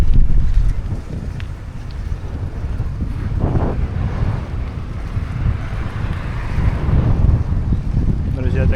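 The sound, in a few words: strong wind blowing into the microphone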